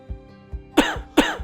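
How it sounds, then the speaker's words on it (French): A nocturnal cough from someone with chronic gastro-oesophageal reflux: two faint throat pulses, then two harsh, close coughs in quick succession, with no talking. "la toux nocturne"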